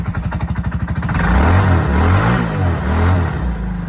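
A 2007 Surfango Hawaii GT jet drive kayak engine, running on fuel in the carburetor with no tank attached, cranks with a rapid pulsing stutter, then fires and settles into a loud, steady, wavering mid-pitched motor drone.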